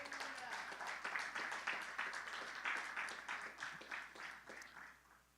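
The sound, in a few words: congregation applause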